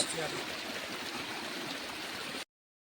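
Rainwater from a heavy Baisakhi storm flows steadily through flooded farm fields, a soft, continuous rushing and trickling that holds even for a couple of seconds before cutting off.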